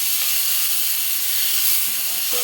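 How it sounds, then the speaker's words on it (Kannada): Food frying in a pan, a steady, loud broadband hiss of sizzling oil that holds evenly throughout with no pauses. "ಇದನ್ನು ಫ್ರೈ ಮಾಡ್ತೀನಿ."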